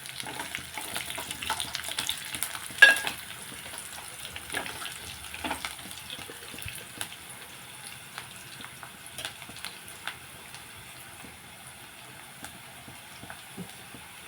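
Garlic frying in oil for a Telugu dal tempering, a faint soft sizzle with scattered crackles and occasional stirring clinks, quiet and continuous without talk.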